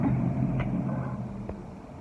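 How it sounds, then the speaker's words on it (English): A loud truck passes close by outdoors: a heavy, low engine rumble that stays strong and then slowly eases off, with no voices over it. "that truck was super loud"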